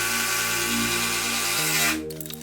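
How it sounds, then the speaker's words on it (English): A power drill drives pocket hole screws into wooden guardrails of a kids' loft bed, a steady whining motor hum that drops in pitch as the screw seats, then cuts off. "After that I started screwing in the guardrails."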